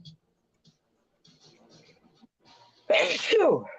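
Faint scattered noises and murmurs, then one loud, sharp sneeze close by near the end.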